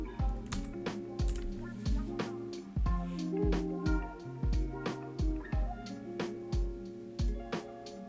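Computer keyboard typing, close and quiet, with steady irregular keystrokes tapping throughout and no other sound.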